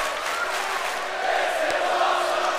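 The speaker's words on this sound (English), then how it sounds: "And the crowd chanting, this is awesome." A crowd chants during the main event of a wrestling video game, a steady, dense arena roar that holds at an even level throughout.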